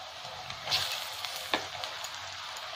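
Ginger-garlic masala for Kashmiri-style chicken frying in a pan, a steady soft sizzle with a couple of brief stirring scrapes, heard alone with no talk.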